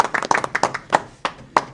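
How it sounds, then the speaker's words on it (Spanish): Scattered clapping from a small audience at a televised Spanish-language event greeting the president's arrival: a handful of distinct, close hand claps in an uneven rhythm, fairly quiet, with no talk. "Un aplauso."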